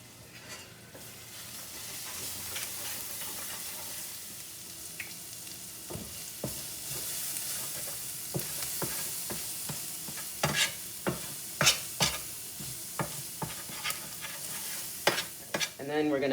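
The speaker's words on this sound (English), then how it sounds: "we're going to reduce the heat and mix everything together" Spices including coriander powder are stirred and fried in a pan over lowered heat for palak paneer, making a continuous sizzle with a run of sharp spoon clicks and scrapes that grows busier toward the end, with no voices.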